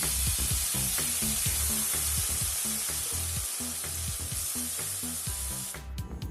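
Ash gourd fries in ghee in a pan, a steady close sizzle and crackle with scraping stirs repeating throughout, continuous for about six seconds with no speech.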